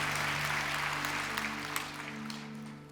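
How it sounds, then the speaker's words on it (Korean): A church congregation applauds in thanks to God, a steady wash of clapping with a low sustained organ or keyboard tone running underneath. "우리 하나님께 감사의 박수를 크게 올리십시다."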